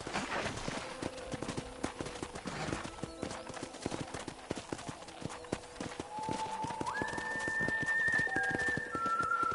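Rapid clip-clop of horse hooves trotting continuously in Red Dead Redemption, with ambient tones and a rising musical note toward the end.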